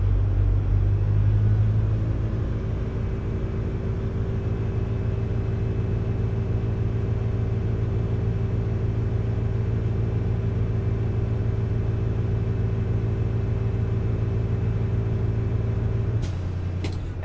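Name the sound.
truck air brake dryer purge 'sneeze' while engine idles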